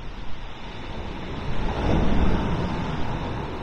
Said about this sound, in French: Bruit des vagues.